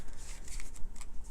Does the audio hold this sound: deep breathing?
no